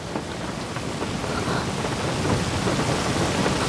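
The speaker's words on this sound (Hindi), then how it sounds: "लेकिन बाहर बारिश हो रही है।" Heavy rain pours down outside in a dense, steady wash, with deep thunder rumbling through it and no voices.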